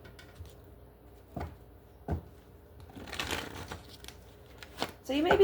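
Tarot cards are shuffled in several short riffling bursts, soft and close, with a quiet voice talking between them.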